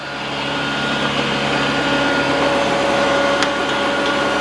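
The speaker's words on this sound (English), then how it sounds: "Boss BA 440 hydraulic air compressor." A Boss BA 440 hydraulic air compressor runs on a 2008 Freightliner Business Class M2 106 truck, a loud, steady, close engine-like drone with a constant hum throughout and one brief higher click partway.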